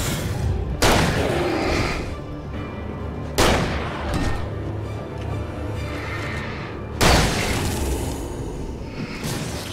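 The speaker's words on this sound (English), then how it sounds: "With a better shotgun." Three heavy shotgun blasts boom out at roughly three-second intervals in the horror action game Alan Wake, each a loud broadband crack followed by a rumbling decay over dense game ambience.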